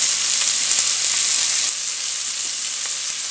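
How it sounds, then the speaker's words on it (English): Loud, steady sizzle of onions and smoked meat frying in a pot, a dense hiss with a slight drop in level partway through and no talking. "now that we have the onions cooking and we have the smoked meat in the pot"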